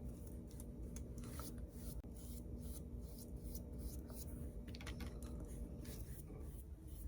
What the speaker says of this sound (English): So now I am going to paint this head black.